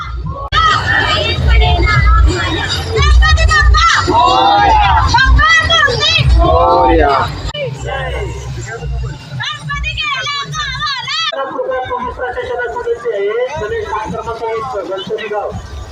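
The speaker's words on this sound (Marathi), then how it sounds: "या ठिकाणी मोठ्या प्रमाणात गर्दी झालेली आहे" A large crowd at a Ganesh procession, with dense babble of many voices, children's calls and shouting that is loud and continuous, then slightly quieter toward the end.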